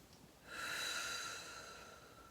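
A single slow, audible breath during a stretch class, a soft rising inhale swelling into a breathy exhale that fades out, close and quiet with no talk.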